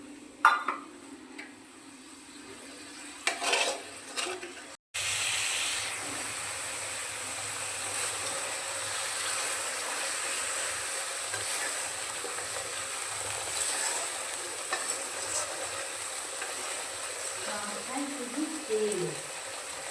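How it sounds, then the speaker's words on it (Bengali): Spice masala with turmeric, salt and a little water stirred and sautéed in a pan, a continuous low sizzle with occasional scraping, preceded by a few clinks and brief handling noises. "মশলার বাটি ধুয়ে সামান্য জল দিয়ে দেব দিয়ে মশলাটাকে ভালো করে আবার কষাবো"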